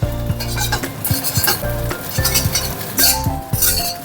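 Small pieces of egg fry in a pan while a utensil scrapes and clinks repeatedly against the metal in a steady stirring rhythm over a constant sizzle, close and fairly loud.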